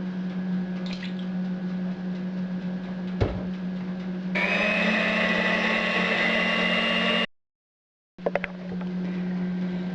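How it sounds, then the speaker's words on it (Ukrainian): An electric hand mixer beats eggs with sugar for muffin batter, giving a steady whirring motor drone for a few seconds over a constant low kitchen hum. A sharp click comes before it, and a short cut to silence follows. "Спочатку Будемо збивати яйця з цукру"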